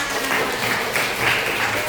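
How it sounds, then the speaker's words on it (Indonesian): A vocational high school class claps together for a classmate, a fairly loud, close burst of hands with a few stronger pulses running through it. "beri tepuk tangan"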